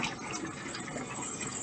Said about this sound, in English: So you want to rinse your hands in the sink